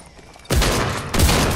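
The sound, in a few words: gunfire in the video game Fortnite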